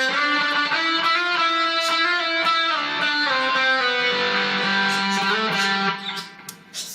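An electric guitar plays the interlude solo, a clean melodic line of sustained notes and slides played alone at a steady moderate level, ending with a few softer, broken-off notes.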